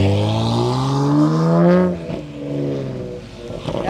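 A car engine revs hard and climbs in pitch, then drops away as it passes, during a drag race between a new Toyota Supra and a 6.2L V8 AMG Mercedes S211 estate.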